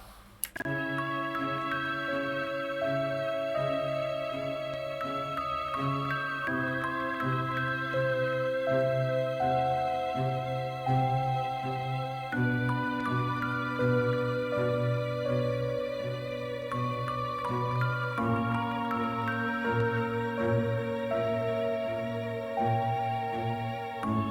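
A video game main theme: a gentle looping melody of bright, chiming tones over a steady bass pulse plays continuously, clean and even in volume with no voices.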